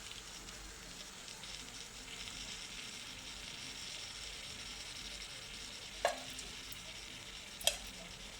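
Tamarind extract being stirred into a simmering gravy in a pan. A quiet, steady bubbling hiss continues throughout, broken by two sharp clinks of a utensil near the end, with no talking.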